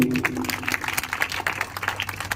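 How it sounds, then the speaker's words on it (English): Children at a school morning assembly clap for a classmate who sang a prayer, a loose, uneven patter of hands, moderately near, with a faint voice at the very start. "Please clap for Manvi also."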